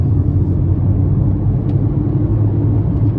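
A Volkswagen Lupo accelerates at full throttle in third gear, its engine a loud, steady drone with a deep rumble heard from inside the car.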